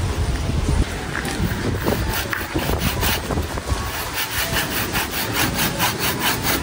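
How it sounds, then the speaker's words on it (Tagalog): Hand sawing through soft, often-wet wood while cutting down a tree outdoors, a continuous rasping stroke rhythm close to the microphone with some wind noise, no talking. "ito pong puno ay puputulin na po"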